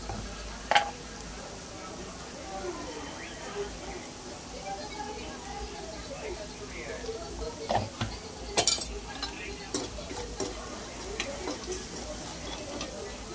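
Potato filling for batata vada being roasted in a pan with a little turmeric, producing soft, scattered spatula scrapes and light metallic clinks against a low, steady kitchen background.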